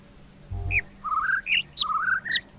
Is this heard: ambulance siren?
no